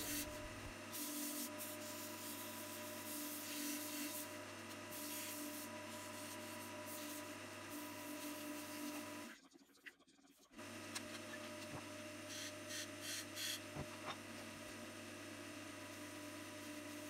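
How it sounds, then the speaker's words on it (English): Steady, close abrasive rubbing of sandpaper against the turned wooden lid of a box, running continuously with a brief pause near the middle, then resuming as friction polish is worked in. "sand it off and apply some friction polish"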